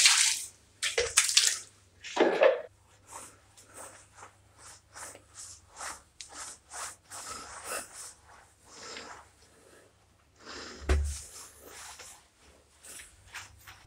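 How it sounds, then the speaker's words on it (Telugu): Water is poured and splashed over bathroom tiles during acid cleaning, with irregular slaps and gushes of water followed by a run of short scrubbing strokes, close by. "ఓకే ఇక్కడ కూడా మనం వాటర్ వేసుకుందాం."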